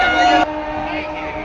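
A train pulls into a crowded station platform during a Loknath Dham pilgrimage: a brief tonal blare cuts off into a steady rumbling wash of noise.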